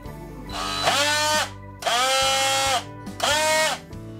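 A Parkside PKGA 20-Li B1 4-in-1 cordless combination tool running on a 2.0Ah lithium-ion battery in three close, loud bursts: each whine spins up, holds a high buzzing tone for about a second, then winds down.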